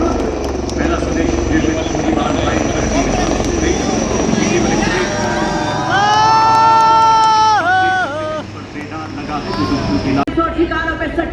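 Indian Army indigenous light helicopters armed with modern weapons fly past during the Republic Day parade on Kartavya Path, New Delhi, a loud sustained rotor drone with a rising whine over crowd hubbub and a commentator's voice.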